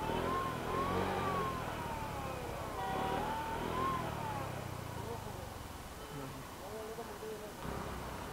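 A scooter engine is kept revving to stop it from stalling, a steady mid-pitched drone that rises and dips, with people talking over it throughout.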